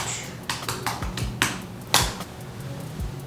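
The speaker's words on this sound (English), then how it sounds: "Type in the address." An address is typed into a real estate listing system on a computer keyboard, with separate close key clicks in an uneven rhythm over a soft room hum. No one speaks.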